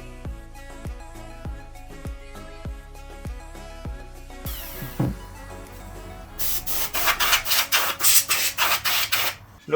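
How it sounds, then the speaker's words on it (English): Rotary Dremel tool grinding down a plastic headlight housing, entering partway through as a rough, gritty whir that rises into a loud burst of rapid rasping pulses, following a run of rhythmic mechanical clicking. "so I'm gonna have to grind down a little bit with the Dremel"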